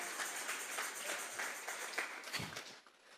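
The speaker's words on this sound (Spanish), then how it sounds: "Vamos a regalarle ofrenda de palmas al Dios de la gloria." A church congregation at a Sunday service claps together in a steady, dense patter of applause heard from a distance, continuing for a few seconds before tapering off.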